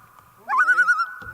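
A single duck or goose gives a short nasal honking call with a quick wavering rattle, close and clear on a quiet lake in the Quetico wilderness, with a faint rustle afterward.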